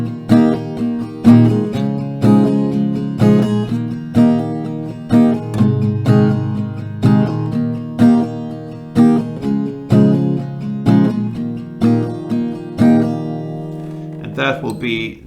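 Steady strummed acoustic guitar chords in a regular down-up rhythm, each stroke ringing briefly, moving through a simple repeating progression at moderate volume.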